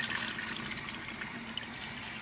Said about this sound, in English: you gotta wash your veg